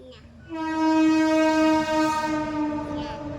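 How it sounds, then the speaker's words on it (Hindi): A train passes with a loud, sustained horn blast that swells in and holds for about three seconds before fading, with rumbling rail noise underneath. "ट्रेन आ रहा है"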